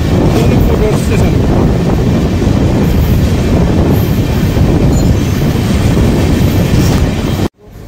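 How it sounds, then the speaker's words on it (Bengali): The Sairang–Kolkata Express rolls into Jangipur station on its inaugural run, a loud, steady rumble of wheels on rails with clattering and squealing throughout, ending abruptly. "আমাদের ইনগ্রাল স্পেশাল সাইরাং কলকাতা এক্সপ্রেস এখন জঙ্গিপুর রেল স্টেশনে পৌঁছে গেছে"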